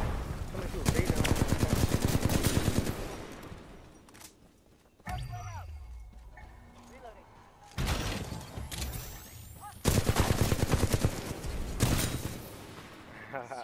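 Rapid automatic bursts from the Flatline rifle in Titanfall 2 multiplayer, loud sustained volleys broken by short pauses, with a player talking over the firing.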